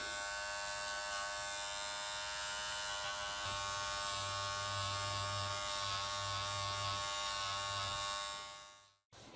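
An electric shaver buzzes steadily and close up while trimming the sheepskin fur back on a shearling coat cuff, its pitch dipping slightly as it presses into the fur, before it cuts off abruptly near the end.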